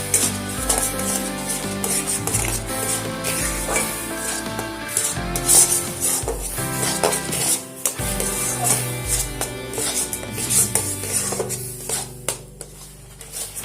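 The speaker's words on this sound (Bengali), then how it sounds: "খুব ভালোভাবে নাড়াচাড়া করব।" A spoon stirs thick raw mango pulp with sugar in a pan, with continuous scraping and rubbing strokes against the metal, rhythmic and close, going on without speech.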